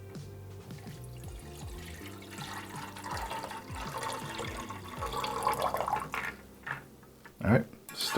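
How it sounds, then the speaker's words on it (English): Water poured from a container into raspberry sports drink mix from a Canadian military ration pack, a steady splashing trickle that builds and then tapers off, with a voice talking throughout. "Let's add some water."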